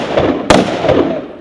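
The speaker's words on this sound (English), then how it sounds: "Shoot your weapon. Go ahead and fire." Weapon fired outdoors at a Marine Regiment Jane Wayne Day range event, a single loud sharp crack midway through with a brief echoing tail over background noise.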